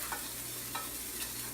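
A spoon stirring teriyaki sauce into shrimp and broccoli in a pan, giving soft scraping strokes at a steady pace over a low, constant sizzle, heard close and fairly quiet.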